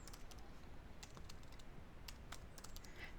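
Light, quiet tapping on a computer keyboard, irregular keystrokes in short bursts at close range with no talking.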